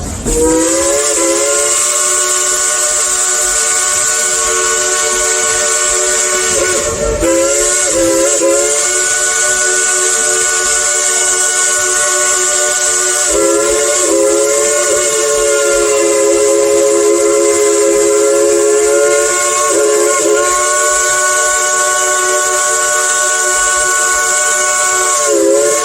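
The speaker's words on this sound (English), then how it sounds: "Y'all like to hear a tune on that Crosby three-chime whistle?" Crosby three-chime steam whistle on a tourist train, blown loud and close in long sustained chords with brief breaks, its pitch shifting as the notes are played like a tune.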